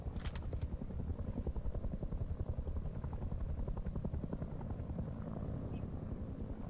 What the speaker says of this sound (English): Oh, that heli's flying.